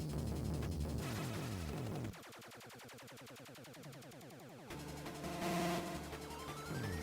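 Gyruss, the 1983 Konami arcade shooter, blares its driving electronic music alongside dense bursts of rapid laser fire and explosion effects, loud and continuous with no voices.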